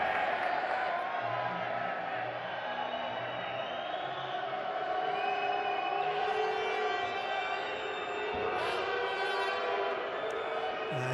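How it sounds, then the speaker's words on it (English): A basketball arena crowd at a Basketball Champions League game, Promitheas Patras against Neptunas Klaipeda, reacts to a foul with a sustained loud roar of jeers and whistles filling the whole stretch. "you can hear what the crowd think about that as Ellis picks up his first foul."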